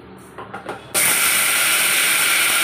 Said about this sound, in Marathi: तो आपण आधी मिक्सरला बारीक करून घेऊया